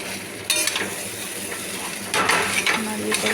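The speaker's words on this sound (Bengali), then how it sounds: "নাড়িয়ে করে ভালো করে চাউমিনটা ভেজে নিচ্ছি।" Chow mein seasoned with turmeric is stirred and fried in a pan, with a steady sizzle under two bursts of spatula scraping, one early and one later, all close and fairly loud.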